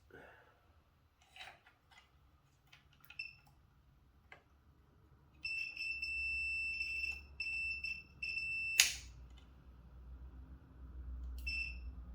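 A multimeter in continuity mode beeps as probes touch circuit board pads during a Neato Connected robot vacuum repair, giving a few short, choppy high beeps and one later brief beep amid quiet handling noises.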